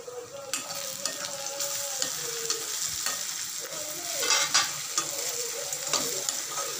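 Tomato and onion fry in a pan for mushroom gravy, a continuous soft sizzle with the scrape and clatter of a spoon stirring through it, close and moderately loud, with no talking.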